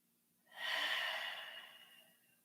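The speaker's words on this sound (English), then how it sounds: "2 more breaths." A single slow, soft breath during a yoga pose, a gentle breathy exhale rising and fading over about a second and a half in a quiet room.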